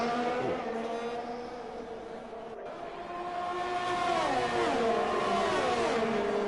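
A McLaren race car in a racing video game screams down a straight, its engine note climbing and dropping through quick gear changes as a steady high-pitched whine.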